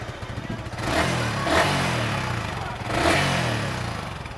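A used 2021-model motorcycle in fresh condition with an untouched engine, idling nearby with a low throbbing pulse and two gentle swells in revs, alone without talk.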